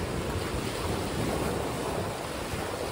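Waves of the Godavari river at Rajahmundry wash onto a sandy shore in a steady, broad rushing roar mixed with wind buffeting the microphone.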